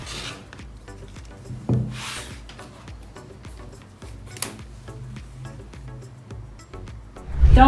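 A rotary cutter rolls along a ruler, slicing a fabric strip for a jelly roll rug cord. It makes soft, close rubbing and scraping strokes with a few sharper bursts and light taps, and no one speaks.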